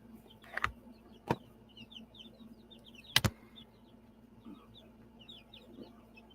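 A chicken clucks softly in scattered bursts, with a few sharp louder knocks or taps standing out against a quiet background.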